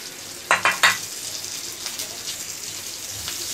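A spice masala of turmeric, cumin and mint roasting in a pan: three quick spoon clatters near the start, then a soft, even sizzle with light stirring.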